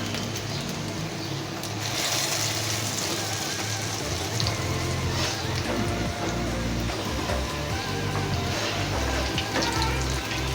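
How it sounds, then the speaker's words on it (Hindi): Egg koftas coated in gram flour batter frying in hot oil, a steady dense sizzle with crackling pops that runs continuously and fairly loud throughout. "ये अंडे कोफ्ते हमने फ्राई कर लिए हैं"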